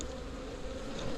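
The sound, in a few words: honey bees buzzing during hive inspection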